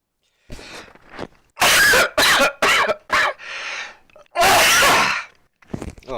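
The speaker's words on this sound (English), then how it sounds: "Oh, excuse me while I cough." A run of harsh coughs from a person at a microphone, several sharp bursts close together with brief gasps between, loud and near, partly muffled by a hand over the mic.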